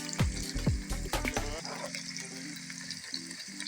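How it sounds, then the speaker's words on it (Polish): Fresh bacon and onion frying in a pan, a broadband sizzle running throughout. Loud thumps and knocks come early on, followed by steady tonal kitchen noise underneath. "świeży boczusz ląduje na patelni. Dorzucam także cebulę."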